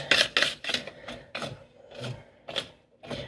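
Bath bomb mixture for minion bath bombs being whisked in a deep container, heard as close, rhythmic scraping strokes repeating roughly every half second, with no talk.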